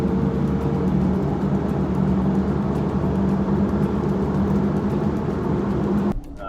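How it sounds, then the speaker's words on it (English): A cattle truck in Colombia idling or running nearby, a steady low engine drone with a humming tone that holds for about six seconds before cutting off abruptly. "So here is a typical truck, the cattle truck in Colombia."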